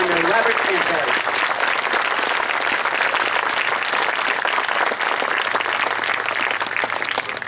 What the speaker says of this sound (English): how about a round of applause for the wonderful Elgin High Band under Robert Sanchez